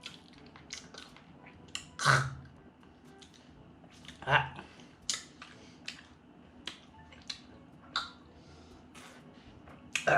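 Sour, eyeball-shaped gummy jelly is chewed close up. The moist squishes and a few louder bites are spread unevenly across the stretch, with soft sounds from the mouth in between.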